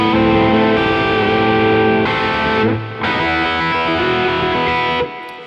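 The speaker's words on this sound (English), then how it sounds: "So this is the Diezel Herbert in channel 2 with nothing on it." A heavily distorted electric guitar plays through a Diezel Herbert amp on channel 2, with delay and reverb added, sustained thick chords ringing loud and dense, changing a few times before cutting off at the end.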